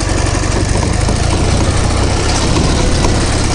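An Ural truck crawls along slowly in second gear, its heavy engine a loud, close, steady low rumble that drones on without a break.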